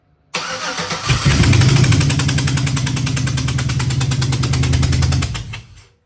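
A Chevy Nova's LS 5.3 V8 cranks and catches immediately in a garage, settling into a loud, steady, slightly uneven idle with a rapid pulsing beat before it shuts off at the end.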